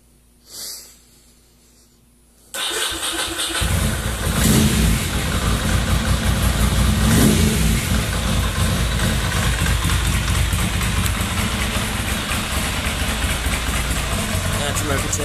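A Ducati motorcycle engine cranks and fires up, then runs close and loud, with a few revs early on settling into a steady rumbling idle.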